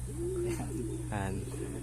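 A pigeon coos softly nearby, a low rolling call repeated over a quiet background hum.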